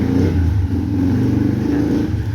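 A 2011 Kawasaki KLX 150 motorcycle with a 63mm 170cc engine refresh idles and runs steadily, a loud, close, low rumbling engine note with even pulsing and no talk.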